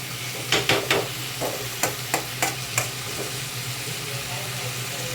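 Greens sauté in a pan with a soft, continuous sizzle. A spoon stirs and taps against the pan in several sharp clicks early on, and the last few seconds are quieter.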